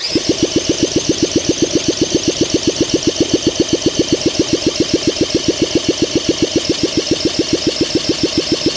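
A Honda SL125 motorcycle engine cranks over and tries to start, making a steady, rapid train of rhythmic pulses and pops that repeats evenly and loudly for about nine seconds.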